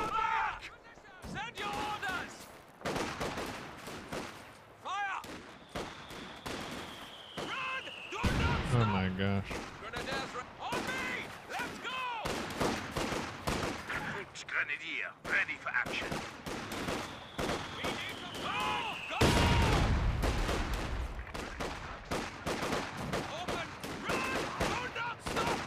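Gunfire and mortar blasts in a multiplayer war video game, with bursts of shots and heavy booming impacts spread across the clip while players talk excitedly over the action.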